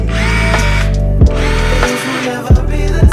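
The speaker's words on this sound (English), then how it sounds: "we're gonna drill" A power drill drilling in loud, sustained bursts, its motor whine holding steady with brief stops and restarts and short thumps between runs, close up and alone.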